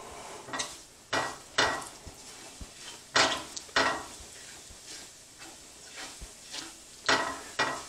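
Cumin seeds fry in hot ghee in a large pan, producing a soft sizzle broken by a series of close stirring and scraping strokes against the pan, faint and without speech.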